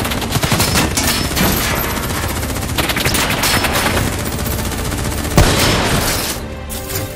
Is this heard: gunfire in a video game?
yes